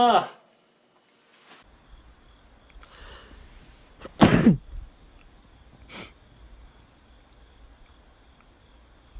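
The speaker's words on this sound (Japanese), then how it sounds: "くしゃみした。" A sudden, sharp sneeze bursts out close to the microphone. A smaller breathy burst comes before it and a brief sniff follows, all against a quiet indoor room.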